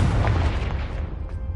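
A fiery blast from the Confringo spell in Hogwarts Legacy, a loud, dense low rumble that swells at once and slowly trails off, with no voices over it.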